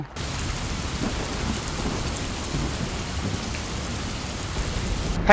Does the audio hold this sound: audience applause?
no